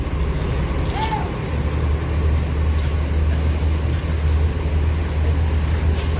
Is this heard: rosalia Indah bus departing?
yes